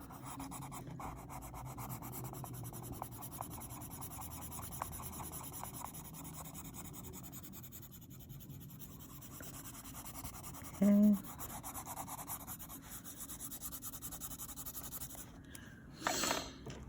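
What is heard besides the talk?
rubbing colored pencil wax to flatten paper tooth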